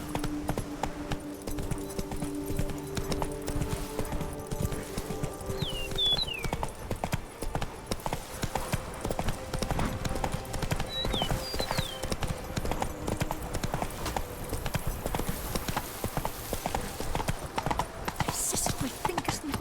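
Horse hooves clip-clop steadily at a gallop in The Witcher 3: Blood and Wine, a continuous rhythmic beat with an occasional whinny over ambient game sound.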